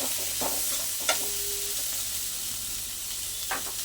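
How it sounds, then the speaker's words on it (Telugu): Sliced onions and mustard seeds fry in a pan, giving a steady, close sizzle. A few sharp clinks and scrapes from stirring break in, with no talk. "ఆనియన్స్ వేసుకొని బాగా వేసుకోవాలి"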